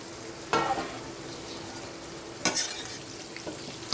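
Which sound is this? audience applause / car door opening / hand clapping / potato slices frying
potato slices frying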